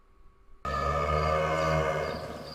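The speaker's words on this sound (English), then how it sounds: "More cow sounds and all of this nonsense" A long, loud cow moo from Star Citizen, with a rich harmonic drone that starts abruptly after near silence and holds steady for about two seconds before easing off slightly.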